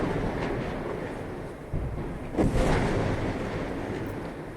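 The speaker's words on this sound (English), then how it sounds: "Those were explosions heard outside the Al-Shifa hospital" Explosions outside Al-Shifa hospital in Gaza come as dull, rumbling booms heard at a distance, one swelling rumble building into a louder heavy blast over continuous low background noise.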